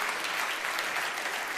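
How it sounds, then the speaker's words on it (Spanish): A conference audience at an economic colloquium breaks into applause, a brief, dense and steady burst of many hands clapping. "Así que creo que se merece un aplauso"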